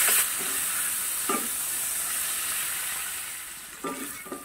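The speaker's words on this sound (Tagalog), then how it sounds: "Hahaluin ko lang po ito" Tomatoes sizzle and fry in a pan while a utensil stirs them, giving a steady hiss with a few short scraping strokes, close and fairly loud, with no talking.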